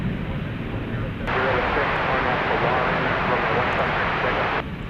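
A Boeing 767 arriving at DFW Airport at night after a short flight from Alliance Airport, a broad steady jet roar that swells and holds for several seconds before easing back.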